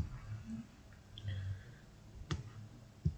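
Computer mouse clicks, quiet and sparse, a few sharp taps spread across a low background hum with faint room noise.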